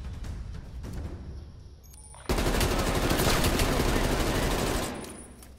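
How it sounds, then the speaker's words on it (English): Gunfire from a first-person shooter as bullets are fired through a bookshelf: after a quieter stretch, a loud sustained burst of automatic shots runs for over two seconds, then tapers off. "shooting through the bookshelf might be dirty, but it does the job"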